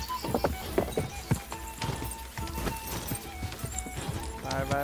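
A horse gallops in Kingdom Come Deliverance 2, with rapid, close hoofbeats in a quick uneven rhythm, a whinny, and game music playing underneath.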